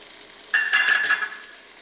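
Butter and flour sizzle in a pan while a roux is started, a steady close frying hiss that jumps up suddenly and holds bright for about a second before easing off, with no voices.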